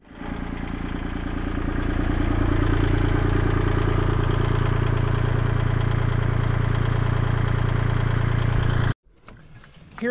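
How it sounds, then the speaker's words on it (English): A farm tractor engine starts up and settles into a loud, steady running drone with a rhythmic mechanical clatter, then cuts off sharply, leaving faint rustling sounds. "They don't really like the tractor."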